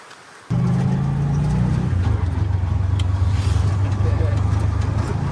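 Steady, close engine drone of a tuk-tuk ride in Guatemala, starting abruptly and holding a low rumble with a slight pitch change partway through, no talk over it.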